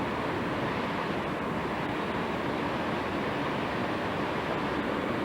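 Tidal water in Newfoundland rushes back out fast, making a steady, dense, broadband roar of flowing water mixed with wind buffeting the microphone, unbroken and without voices.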